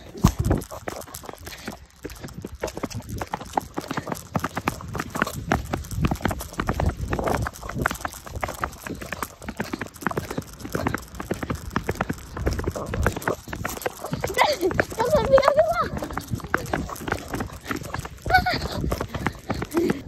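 Horse hooves clip-clop steadily along a trail during a ride, a continuous rhythmic patter of footfalls with rustling, an occasional snort and brief talk from the riders.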